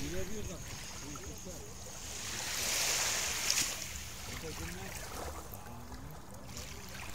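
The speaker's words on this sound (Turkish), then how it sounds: "denizin sesiyle, dalgaların sesiyle yatarsınız, uyursunuz, dinlenirsiniz" Steady wash of sea surf rolling onto İncekum beach near Silifke, Mersin, a broad continuous roar that swells briefly in the middle, with low rumble underneath.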